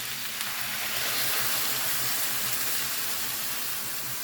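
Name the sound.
deglazing a pan with white wine, sizzling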